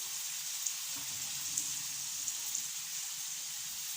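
Spices being mixed and fried in a pan make a continuous, even sizzle with occasional light pops and ticks.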